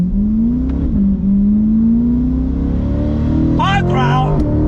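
A Lingenfelter-modified 2021 C8 Corvette engine rises steadily in pitch under throttle, a loud, close, continuous drone that climbs for several seconds before a sharper burst of revving near the end.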